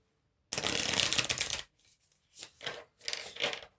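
Oracle cards are shuffled up close: one long, dense riffle burst followed by several shorter, softer shuffles in quick succession, with no talk over them.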